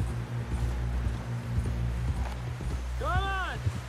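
A horse's hooves clip-clop at a steady walking pace in Red Dead Redemption 2, moderately close, over a low droning background, with a short whinny-like call rising near the end.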